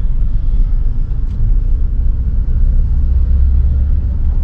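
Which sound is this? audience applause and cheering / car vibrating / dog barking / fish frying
car vibrating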